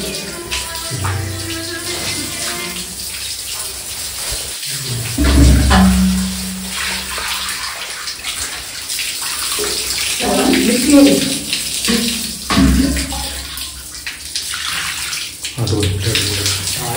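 A thin stream of water runs and splashes continuously onto flowers during a ritual offering at a Shiva temple, with voices talking over it at moments and some dull knocks in the background.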